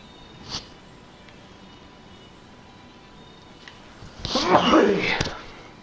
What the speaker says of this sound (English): Oh god, I feel a sneeze coming on.